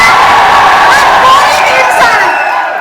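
At a live Mohanlal event for the Kannappa movie, a large audience roars with loud, sustained cheering and whooping, filling the space with dense crowd noise that fades slightly at the end.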